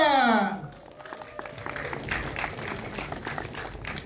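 Members of the media clap at a press conference for the film Satria Dewa Gatotkaca. A brief tonal sound opens, then moderate, scattered applause carries on beneath a person talking.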